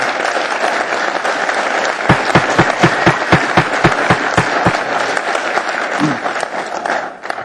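Applause from an audience at a public assembly meeting, a steady wash of many hands clapping at moderate distance, with a run of louder, evenly spaced individual claps standing out in the middle before it tapers off.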